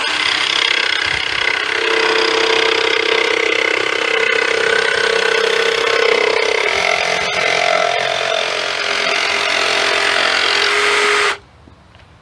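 A jigsaw fitted with a carbide blade cuts through a fiber cement panel with a loud, continuous buzzing rasp that runs without a break until it stops abruptly near the end.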